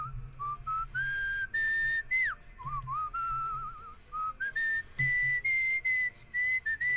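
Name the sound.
whistling, from video game Where the Water Tastes Like Wine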